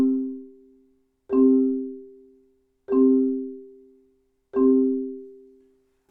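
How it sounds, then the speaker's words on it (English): Marimba-style mallet flams played with Stevens grip to a metronome, four evenly spaced double-struck notes about one and a half seconds apart, each close, loud and ringing before decaying, with no talk. "the easiest way that I found to get started with these things is to do a literal flam with the mallets."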